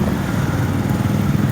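A motorcycle engine runs close by with a steady, buzzing drone that holds constant throughout while people talk over it.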